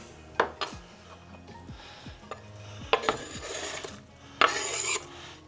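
Chopped food for smoked pea soup clatters and slides into a metal pot in a few short bursts, with clinks of a utensil against the rim and no voices.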